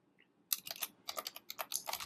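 Quick bursts of keystrokes on a computer keyboard, close and crisp, starting after a brief pause and running in uneven rapid clusters.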